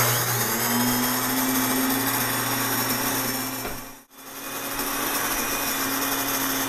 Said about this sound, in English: I'm going to turn this on and grind that wheat